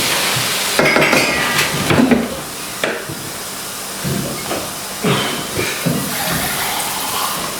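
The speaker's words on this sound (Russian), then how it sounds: "И на большом огне пусть жарится, пропаривается." Sizzling hiss from food frying in fat in a hot pan over high heat, with a few clinks of utensils against cookware, no talking.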